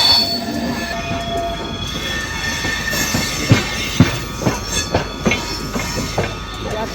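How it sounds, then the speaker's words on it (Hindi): The Bihar Sampark Kranti Superfast Express rounds a small curve leaving Samastipur Junction, its wheels squealing in sustained high metallic tones over a steady rolling rumble, with rhythmic clicks from the rail joints growing more frequent toward the end. "फाइनली अपनी ट्रेन निकल चुकी है भाई समस्तीपुर जंक्शन से"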